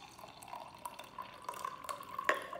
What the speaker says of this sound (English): Okay, so shaking the water up. I'm just going to pour this out here.